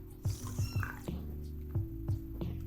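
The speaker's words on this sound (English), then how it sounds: "I'm taking care of a cat right now, so I do apologize if you hear any sort of meowing" A cat makes a series of short, close meows, with soft wet squishy sounds in between.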